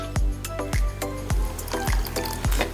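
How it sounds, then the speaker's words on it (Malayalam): A little water goes onto oats and chia seeds in a container, heard as a close series of about five evenly spaced liquid gulps and splashes, each falling in pitch. "അതിനുശേഷം ഇത് നമ്മൾ അല്പം വെള്ളം ഒഴിച്ചേച്ച്"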